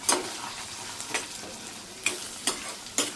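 Green chili and ginger paste goes into hot tempering oil in a kadai, giving a faint steady sizzle broken by a few sharp clinks of stirring, with no voices.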